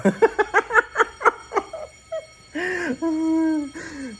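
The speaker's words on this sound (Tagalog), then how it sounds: "Hayop na fire alarm yan." A burst of quick giggling gives way to an electronic building fire alarm blaring in loud, sustained tones.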